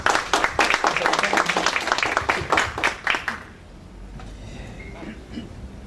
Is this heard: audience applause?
yes